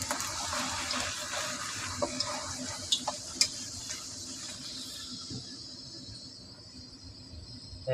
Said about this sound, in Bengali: এইভাবে লুচিগুলো আমি ভেজে নিচ্ছি।